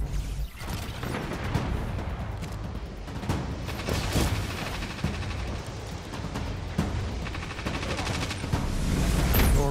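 Dense gunfire in the Rift video game aimed at the team's runner carrying the spark, a steady rattle of shots and booms lasting throughout, loud and continuous with no talk.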